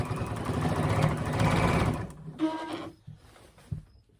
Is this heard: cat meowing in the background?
no